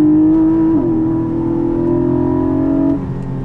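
A Porsche 718 Boxster GTS 4.0 naturally aspirated engine with PDK gearbox, loud steady drone from inside the cabin holding a strong note, dipping briefly after a shift and dropping off near the end.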